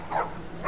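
A dog in The Last of Us video game gives a short bark, a single brief yelp heard alone at moderate loudness.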